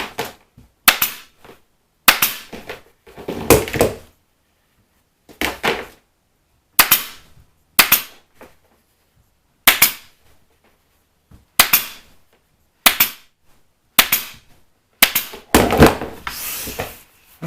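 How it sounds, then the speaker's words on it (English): Sharp staple gun shots fire fabric into antique chair wood, about a dozen loud, close snaps in irregular bursts of one to three, separated by short silences. "go ahead and staple the rest of this down"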